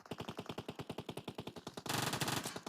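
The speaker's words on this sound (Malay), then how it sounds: "Tembakan lepaskan oleh Icon." Automatic gunfire from PUBG Mobile during a professional esports finals match: a rapid, evenly spaced string of sharp shots, then a denser, louder burst of overlapping fire near the end.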